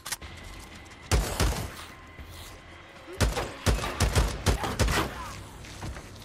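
Gunshots in Days Gone: a few scattered loud reports early on, then a quick run of repeated shots, each a sharp crack with a low thump behind it.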